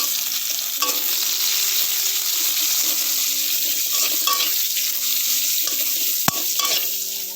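Chopped onion fries in a pan with cumin seeds, giving a loud, steady sizzle close up, broken by occasional scrapes and clicks of stirring.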